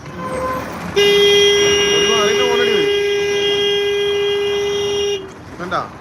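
A loud vehicle horn blares in one long, unbroken blast nearby at a traffic signal, with brief voices and traffic noise around it.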